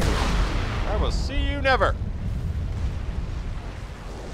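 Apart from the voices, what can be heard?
gunfire and explosions in the video game Crysis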